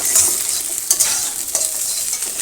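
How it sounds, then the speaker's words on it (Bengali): Egg frying in a pan for chow mein, a close, continuous sizzle broken by a few clinking stirs of a utensil, with no talking. "ডিমটা ভাজবো ভাজা হবে চাউমিনের জন্য ডিমটা ভাজলাম"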